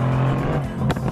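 A Mercedes-AMG GT R engine with a massive central exhaust outlet and two small side outlets, heard close as a loud, steady droning note that shifts slightly in pitch, with a brief sharp burst near the end.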